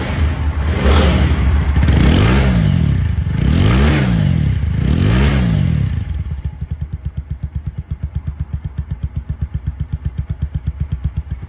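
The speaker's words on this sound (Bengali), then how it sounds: "তো বাইকটি এখন সাউন্ড কোয়ালিটি শোনাবো" A TVS motorcycle, a 4V XConnect LED model with about 3000 km on it, revs loudly in three swelling bursts, then drops to a steady, evenly pulsing idle close by.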